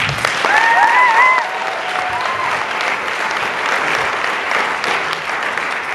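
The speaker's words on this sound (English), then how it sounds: "give them a round of applause" A crowd applauds steadily with dense, sustained clapping, while a few whistles ring out early on.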